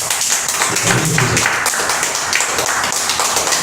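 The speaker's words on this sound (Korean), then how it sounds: "살아계신 주 예수께 박수 한번 치시죠" A church congregation applauding during a Korean sermon, a dense, sustained roomful of clapping that stays loud and even for several seconds.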